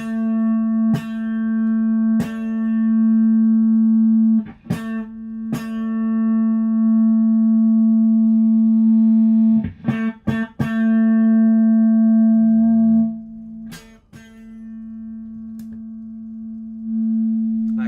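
A sustained, droning guitar note through a noise suppressor pedal holds steady, cut off by sharp muted gaps where the gate clamps down before the tone swells back in slowly.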